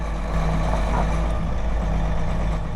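A CAT 18M3 motor grader's diesel engine runs loud and close, a steady deep rumble with a low throbbing hum that holds evenly throughout.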